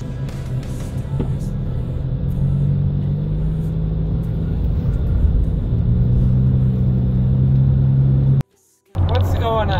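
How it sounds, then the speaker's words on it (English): Car driving home after a hardware-store trip: a loud, steady low engine and road rumble fills the cabin without a break, then cuts out briefly near the end, while a voice talks over it. "I'm just driving home right now."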